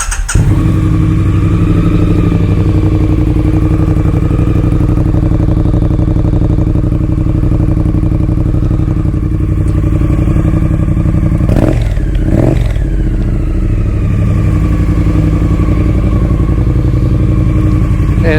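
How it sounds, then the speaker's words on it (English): A 2019 Triumph Street Twin parallel-twin motorcycle idles steadily and loud up close, with a brief blip and a couple of clunks partway through before it settles back to a smooth, even idle. "And we'll start the 19."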